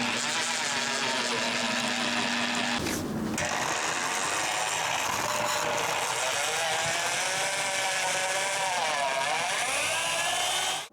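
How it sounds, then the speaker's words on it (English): A power drill runs steadily while a security door is being installed, a dense, continuous whirring grind lasting about eleven seconds with a short burst of harsher noise near the start, close and loud. "He's trying to drill now."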